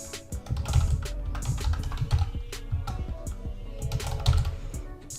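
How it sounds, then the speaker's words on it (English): Rapid typing on a computer keyboard, a steady run of close, crisp key clicks with irregular rhythm and a few heavier thumps, heard alone with no talking. "typing in a little text here"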